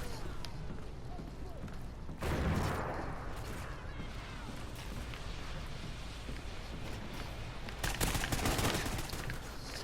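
Game gunfire in Battlefield 6 sounds as bursts of automatic shots and distant blasts over a steady battle din, with a player's voice talking over it.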